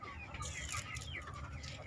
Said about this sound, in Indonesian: jadi ini dia sedulur ayam organik karena pakannya pakan organik.